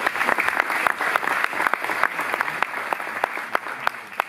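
Audience at a school Veterans Day assembly applauding teachers and staff, a steady patter of many hands clapping with sharp individual claps standing out, fairly close and without talk.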